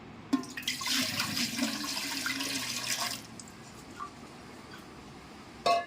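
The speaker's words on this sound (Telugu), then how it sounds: "మినుములు వండుకోవటానికి ఒక ఇలాంటి దబరా తీసుకోవాలండి అందులో కొన్ని నీళ్లు పోసేసుకుందాం" Water gushes steadily into a large cooking pot for about three seconds, a bright splashing pour that then cuts off, leaving quiet room tone and a brief clatter at the end; no one talks.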